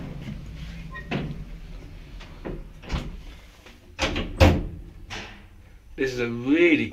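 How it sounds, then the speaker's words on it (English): Doors of an old General Lift Company traction express lift in a Worthing car park, modernised and grotty, bang and slide open and shut in several sharp knocks over a low hum, ending in a rising whirr. "Doors opening. Doors closing."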